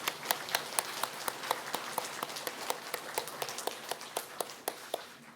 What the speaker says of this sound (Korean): 우리 하나님께 영광의 박수를 한번 올려드리겠습니다.